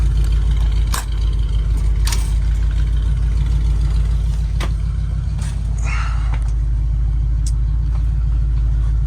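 A deep, throaty engine rumble from a camper over 40 years old idles loudly and continuously through Thrush turbo mufflers on a custom exhaust, with a few short clicks and rattles over the drone.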